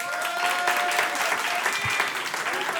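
Comedy club audience applauding, a steady close roar of many hands clapping that holds at an even level throughout, with a few brief voices mixed in.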